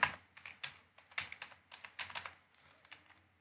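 Keys on a computer keyboard are tapped at a steady pace while a password is entered on an online form, about a dozen light, close clicks with short pauses between.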